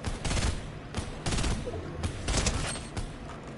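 Burst rifle gunfire in Fortnite crackles in rapid clustered volleys, several sharp bursts spaced unevenly over a few seconds, loud and close with no talking.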